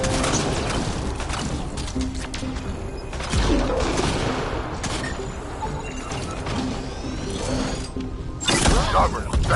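Enemies fire guns in the video game Mass Effect Andromeda: dense, continuous bursts of gunfire and clattering impacts, loud and close, with voices speaking over the battle.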